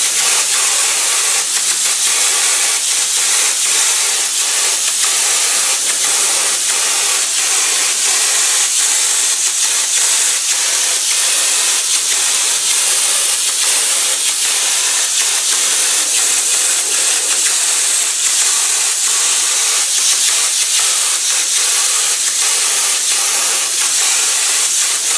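A gravity-feed spray gun sprays thick glue during a vinyl recovering repair, giving a loud, steady, unbroken hiss for the whole stretch with no talking.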